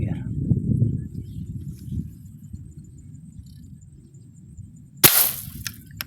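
A single sharp air gun shot fired while fishing outdoors, a sudden loud crack near the end standing out over steady wind and low background noise, with a brief fainter snap just after.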